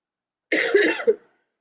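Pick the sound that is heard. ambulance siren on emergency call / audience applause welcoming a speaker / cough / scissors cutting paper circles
cough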